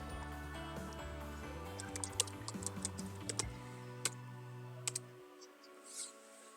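Someone types a command on a computer keyboard in a Kali Linux terminal, producing a handful of sparse, light clicks scattered over a soft, humming musical background.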